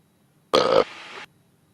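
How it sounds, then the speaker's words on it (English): A single loud burp, abrupt and close, with a rougher trailing tail that fades after about half a second. "I know, I keep burping."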